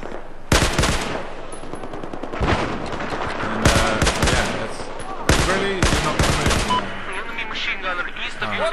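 Battlefield 4 gunfire on PS4 crackles in loud, sharp bursts of automatic fire separated by short pauses, with a voice talking over parts of it.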